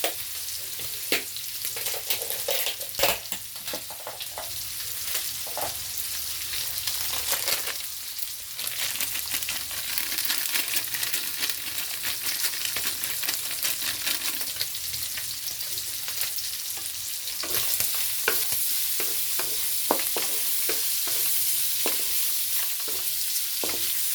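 Beef and broccoli stir-fried in a hot pan, a steady loud sizzle with frequent scraping and clattering stirs throughout, no talking.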